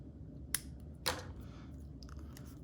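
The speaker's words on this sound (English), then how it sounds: "let me cut the tag end off here" A sharp snip as a fishing line tag end is cut beside an ice-fishing hook, heard as two brief crisp clicks close to the mic over a low, steady background hum.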